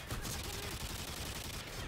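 Dense gunfire from the video game Call of Duty: Modern Warfare, continuous rapid shots blurring into a steady roar, fairly faint and compressed.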